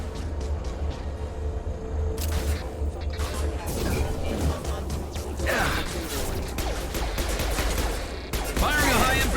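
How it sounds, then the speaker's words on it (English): Gunfire in the video game Mass Effect 2: bursts of weapon fire and impacts over steady in-game background noise, with a character voice calling out over the combat. "Firing a high-impact shot! Hostile forces have engaged."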